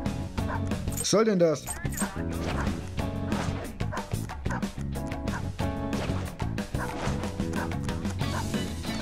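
Dog barking in Persona 5 Royal: a run of sharp, close yips and barks over steady game music, with someone speaking German briefly among them.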